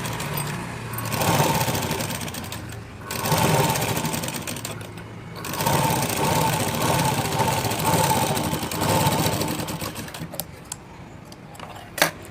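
A sewing machine top-stitches blouse cloth in bursts of fast, rattling mechanical stitching separated by short pauses, loud and close, with a few clicks and a knock at the end and no speech.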